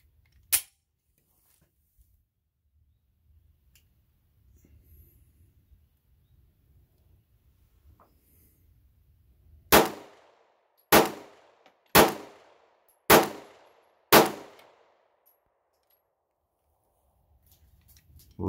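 Five sharp Glock 43 pistol shots fired at a shooting range, evenly spaced about a second apart, loud and close, with an earlier single loud crack and quiet handling noise in between.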